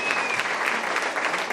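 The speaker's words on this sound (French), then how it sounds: "je voudrais qu'on lui réserve un tonnerre d'applaudissements" Audience applause at a presentation of bullfighting shows for the Soustons festival, a brief burst of dense clapping heard throughout.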